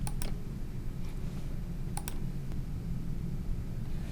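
Sharp computer mouse clicks, a quick double click, a single click, then another quick pair, crisp and close over a steady low room hum, no talk.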